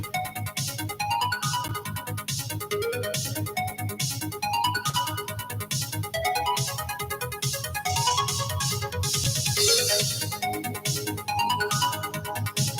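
Upbeat electronic music from a driving video game, with a steady driving beat and bright repeating synth melody, played continuously at moderate volume.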